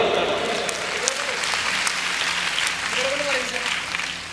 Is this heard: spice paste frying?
no